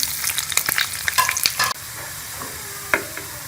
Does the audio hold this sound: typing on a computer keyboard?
no